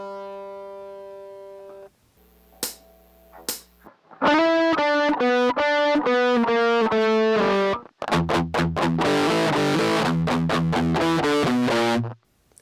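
Distorted electric guitar plays a riff, loud and up close, moving from sustained notes and a short pause into a steady, chugging run of picked notes and then a denser, crunchier section, with no talking.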